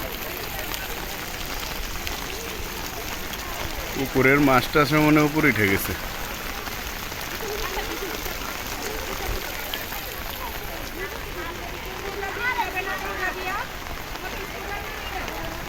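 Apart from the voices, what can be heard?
heavy rain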